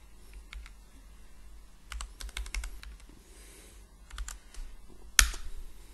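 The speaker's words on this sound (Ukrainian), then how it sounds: "і жмемо Enter." Keys clatter on a computer keyboard in uneven bursts of close clicks, then a single louder, sharper keystroke lands as Enter is pressed, followed by a few faint taps.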